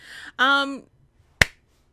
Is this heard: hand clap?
yes